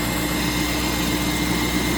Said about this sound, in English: Rover engine sounds